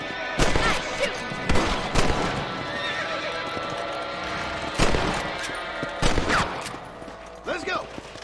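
Rifle gunfire in the Red Dead Redemption video game, several sharp loud shots spaced a second or more apart, mixed with horse whinnies and hoofbeats.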